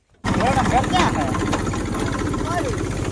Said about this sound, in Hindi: ट्रैक्टर जो है कि मार्केट को जा रहा है